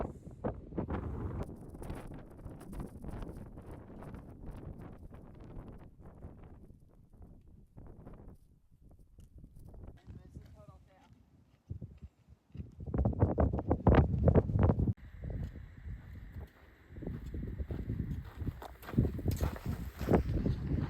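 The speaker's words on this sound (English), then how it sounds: "A little bit windy." Gusty wind on the Pacific Crest Trail rumbles and rushes across the mic, rising and falling, with occasional hiking footsteps and scuffs mixed in at a fairly low level.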